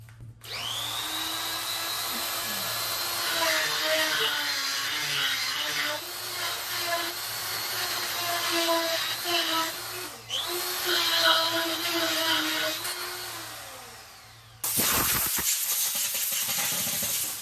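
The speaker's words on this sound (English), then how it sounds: "I'll just pull the drive thread out and then I'll use that burr grinder here" A burr grinder whines steadily while deburring the drive thread of a vise, close and continuous for about fourteen seconds with small shifts in pitch. It cuts off sharply, and then a different noise follows.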